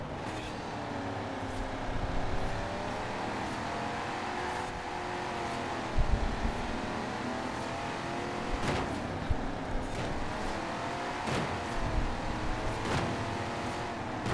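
A muscle car engine in the racing game Forza Horizon 4, droning steadily with shifting revs and occasional louder surges, up close and running without pause.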